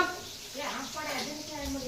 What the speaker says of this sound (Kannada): ಈಗ ಒಗ್ಗರಣೆ ಆಗ್ತಾ ಇದ್ದಾರೆ ಫ್ರೆಂಡ್ಸ್